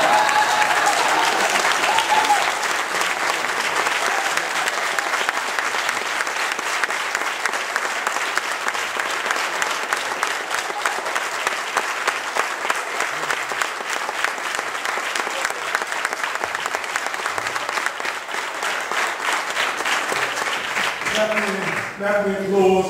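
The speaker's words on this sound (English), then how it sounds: "clap for some white dude." A church congregation at a Baptist service applauds loudly and steadily, dense clapping filling the room for over twenty seconds before tapering at the end.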